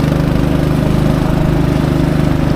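A boat engine runs on a river through rapids near the village of Long Lan, giving a loud, steady, close droning hum that never lets up and has no voices over it.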